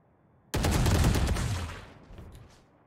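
Rapid burst of gunfire in a competitive tactical shooter match on a save round, loud and dense for about a second before trailing off into fainter scattered echoes.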